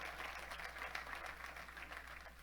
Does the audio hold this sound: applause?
yes